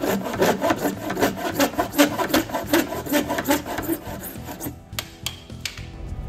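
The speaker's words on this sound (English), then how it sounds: "It's easy to pull the saw strongly because the handle is pistol" A pistol-grip hand pull saw (H126 handle) cuts through PVC pipe in rapid, rhythmic rasping strokes, loud and close for about four seconds, then tapering to a few sparse scrapes.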